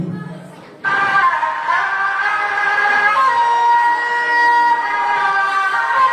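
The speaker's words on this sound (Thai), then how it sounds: "ฟังเสียงปี่พักอภัยมณี" A Thai pi oboe playing a reedy sustained melody, loud and close, with steady held tones and gentle pitch shifts after a quiet lead-in.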